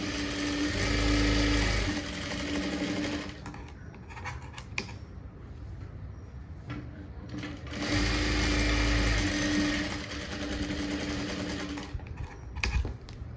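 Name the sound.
sewing machine stitching a blouse sleeve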